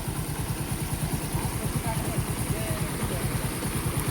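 A motorcycle engine chugs with a steady, close, pulsing rumble as the bike rides along a bad, waterlogged road, the rhythm continuous throughout.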